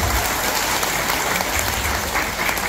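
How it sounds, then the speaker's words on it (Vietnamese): Audience applause at a Vietnamese respiratory health talk, a dense, steady burst of clapping from a room full of people, loud and unbroken throughout. "Một tràng pháo tay thể hiện sự cam kết của mình các chị."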